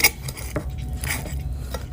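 A spoon and fork clink lightly against a plate while someone eats injera, making a few quick, close metallic taps in a quiet room.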